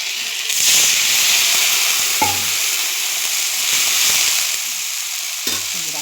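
Dal cooks in a pot after cumin tempering, with ginger added, and gives off a loud continuous hiss and sizzle close by, with a couple of brief low knocks and no speech.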